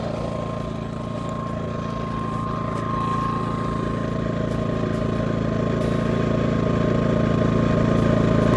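An ETQ NI2000i inverter generator running about 1.5 metres away, giving a steady, moderate engine drone with a constant hum that swells slightly over the clip, with no talking.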